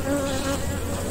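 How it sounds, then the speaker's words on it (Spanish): A dense, steady buzz from many gentle honeybees swarming close around hive combs during a colony inspection, loud and unbroken, with no voices. "¿Por qué están entrando así esas abejas?"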